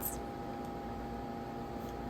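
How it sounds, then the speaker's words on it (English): Air conditioning fan runs in a home kitchen during cooking, giving a steady, even whir with a low hum underneath. It holds at a constant level throughout, with no voices. "I'm really sorry about the fan noise in the background."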